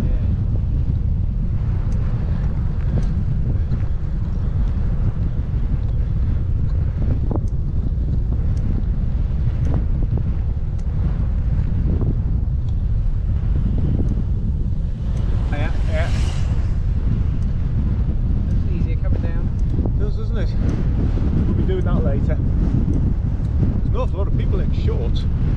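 A strong headwind while cycling up Chapel Fell roars and buffets continuously at close range, a loud, unbroken rush of wind.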